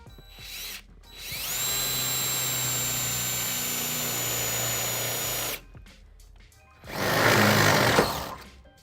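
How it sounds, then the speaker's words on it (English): Power drill with a 3/8-inch bit boring into the rear steel frame of a 2007 Ford Edge, a steady high whine for about four seconds, then a pause and a second rougher, louder burst. "now I'll be using 3/8 drill bit to drill a hole into the rear frame of the vehicle"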